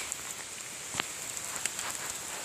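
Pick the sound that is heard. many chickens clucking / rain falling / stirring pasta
rain falling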